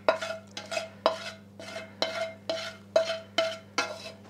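Onions stirred into a bowl of drained yogurt for a creamy sauce, heard as eight regular scraping strokes about half a second apart, close and clear over a steady low hum.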